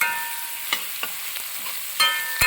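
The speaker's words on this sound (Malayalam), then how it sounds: "നന്നായിട്ട് ഇളക്കി കൊടുക്കും." Onions frying for a vegetable kurma being stirred in a pan, with a steady sizzle and a few sharp scraping knocks of the spoon, the loudest near the end, no talking.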